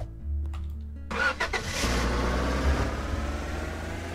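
A vehicle engine in the Roblox game Lumber Tycoon 2 turns over after a brief quiet rumble, then settles into a steady, close running drone that continues to the end.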